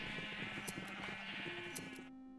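Sheep bleating in the Minecraft video game, a steady layered chorus of overlapping bleats that stays loud through the clip before dropping away near the end.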